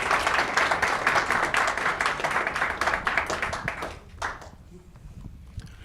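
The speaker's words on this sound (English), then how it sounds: "Give a big round of applause" An audience at a university startup weekend's final presentations claps loudly in a dense round of applause, which thins out and fades to near quiet over the last two seconds.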